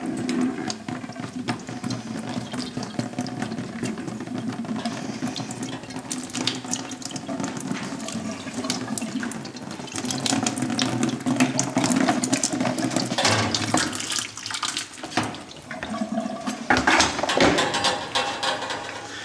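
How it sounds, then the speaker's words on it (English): Water gushes and splashes steadily from an opened drain valve as a gas water heater system is emptied, with a continuous close rushing flow and occasional metallic clinks and knocks. "I'm going to open it up to drain the water out of the system."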